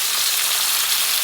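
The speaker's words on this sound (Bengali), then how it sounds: "তো ভাবলাম এইভাবে ভেজে রান্না করে ফেলি" Meat, chicken, frying in a pan at home, a dense, even, hissing sizzle that holds steady and fairly loud for a moment without any voices.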